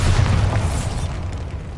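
A Bombarda spell explosion in the video game Hogwarts Legacy lands as a deep, loud boom with a rumbling low-end tail that slowly fades over under two seconds.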